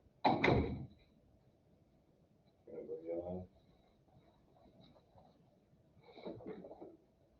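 An indoor door shuts with a dull thunk at the start, followed by two later brief muffled knocks in a quiet room.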